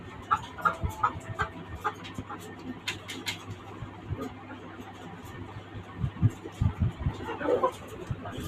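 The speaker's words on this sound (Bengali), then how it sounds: "একটা ফাউমি মোরগ ও একটা মুরগি" Fayoumi chickens and other hens cluck softly on a rooftop garden, short irregular calls scattered over background noise, with a person talking nearby.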